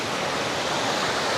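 Stream water flowing at a campsite near an old tunnel, a steady broadband rush and babble heard close and continuous with no voices.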